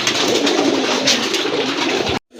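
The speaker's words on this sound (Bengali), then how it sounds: "আপনাদেরকে কবুতরগুলো দেখাই।" A pair of Kagoji (Chuithal) pigeons with feathered feet and crested heads coo close by, a steady broadband cooing and rustle that fills about two seconds before cutting off abruptly.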